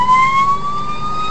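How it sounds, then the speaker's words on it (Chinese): A fire engine siren wails loud and close as the truck races against traffic toward a burning car near an underpass, one sustained rising tone over road noise. "消防车逆向飙速前进，沿途一整排警察帮忙指引方向"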